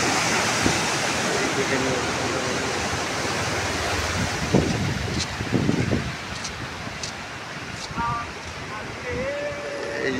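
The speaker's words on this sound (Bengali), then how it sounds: "এই যে পানি এই দিক দিয়ে বেরোচ্ছে," Water released from a canal gushes out in a steady broadband roar like a waterfall, loud and close, while someone briefly speaks over it partway through.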